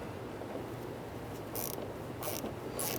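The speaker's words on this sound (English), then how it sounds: "I'm going to use a number 7 socket with an extension and ratchet." A ratchet with a number 7 socket and extension loosens a hose clamp on the fuel filler neck of a 2005-2007 Jeep Liberty, giving a few short, close clicking bursts over quiet background noise.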